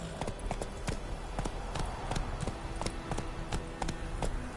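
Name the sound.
horse galloping in video game The Witcher 3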